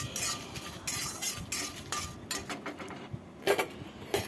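A spoon stirs and scrapes through black peppercorns and five-spice frying in a pan for a raw mango oil pickle. The scrapes are quick and repeated over a soft, steady sizzle, close up and fairly quiet, with no voices.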